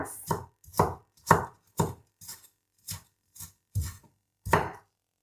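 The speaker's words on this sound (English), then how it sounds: "Here's a piece of ginger, just a little bit. Just cut it like this. Into small pieces." A knife chops a small piece of ginger into small pieces on a board, nine distinct close, crisp strokes in an uneven rhythm with brief silences between them, no talking.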